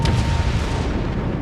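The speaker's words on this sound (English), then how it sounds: "Rounds out from the rear battery." Naval guns on the rear battery of a World of Warships ship fire with a deep, loud, rumbling boom that fills a short stretch without a break.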